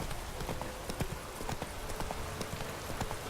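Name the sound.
horse Roach's hooves, from video game The Witcher 3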